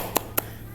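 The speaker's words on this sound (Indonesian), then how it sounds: "Tepuk semangat." A group of schoolchildren in a classroom, led by their teacher, strike two sharp, close hand claps a fraction of a second apart as part of a spirit clap, with faint room noise between.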